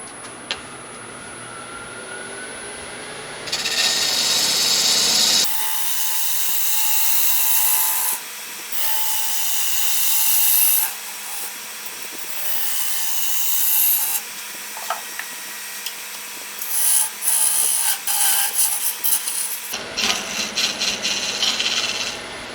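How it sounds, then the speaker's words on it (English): A ground-down old cutoff tool cuts a dovetail into honey locust wood on a lathe, giving a loud, steady scraping and hissing rasp with brief pauses and shifts in pitch, and no talking. "It's an old cutoff tool that I ground down to fit it to be a perfect dovetail."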